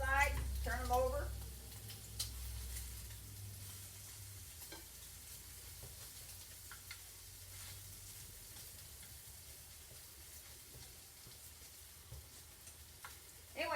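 Salmon patties fry steadily in a pan, a soft, continuous sizzle running the whole length with faint stirring and small clicks, and a brief burst of voices near the start.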